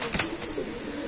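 Racer pigeons held in a sale pen give a few soft, low coos, close by and fairly quiet, along with a brief rustle that may be wing movement.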